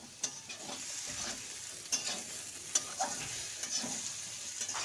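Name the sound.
frying chopped tomato in a pan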